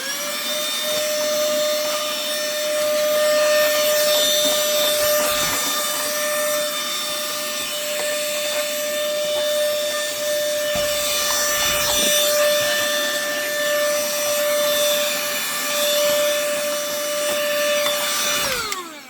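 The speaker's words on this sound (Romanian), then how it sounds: "Să aspir și pe acesta un pic." Vacuum cleaner sucking dust out of an opened PS3 console, a loud continuous whine with a steady tonal hum and shifting airflow as the nozzle moves, running alone for nearly the whole stretch before cutting off at the end.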